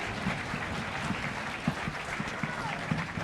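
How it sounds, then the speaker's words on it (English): Audience applause at a live comedy game show at MCM London Comic Con, a steady wash of clapping with a few sharper claps standing out, continuing throughout. "Give the boy a round of applause for playing!"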